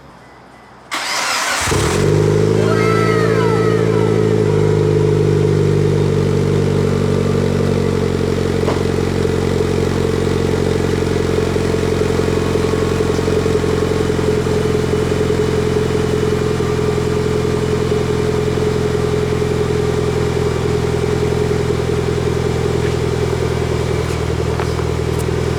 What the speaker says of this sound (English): I am gonna do a first startup for the car with the test pipe and a HKS catback exhaust.